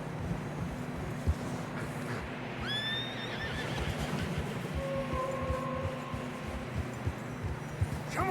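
A horse whinnies loudly with a rising-then-falling call in a snowstorm in Red Dead Redemption 2, over a constant rumble of wind and hooves, and a second neigh follows at the close.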